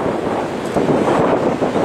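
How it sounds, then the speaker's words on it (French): Strong wind buffets the microphone during a rainy carp fishing session beside the water, a loud, steady roar of rumbling gusts with no speech. "Il y a pas mal de vent."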